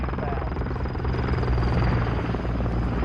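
A helicopter in the video game Call of Duty Modern Warfare 3, played on a PS4 Pro, gives a loud, steady rotor drone that stays close and constant throughout, with no talk over it.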